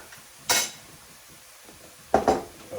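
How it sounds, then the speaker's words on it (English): Chicken curry is stirred in a pot, giving two short metallic scrapes and clinks of a utensil against the pan, separated by a quiet pause with faint background hiss. "now we're going to give that a quick mix"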